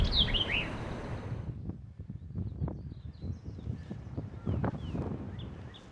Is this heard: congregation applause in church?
no